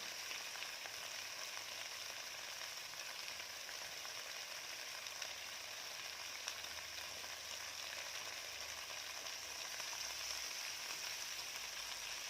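Glass noodles fry in a pan with cabbage, a steady even sizzle that carries on unbroken at a modest level, with no talk.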